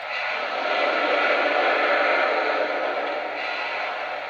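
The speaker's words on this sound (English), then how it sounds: "Here's the blowdown sound." A Lionel PRSL E6 4-4-2 model steam locomotive with TMCC gives its blowdown effect, a loud steady hiss of rushing steam that swells slightly and holds for a few seconds, nearby and alone.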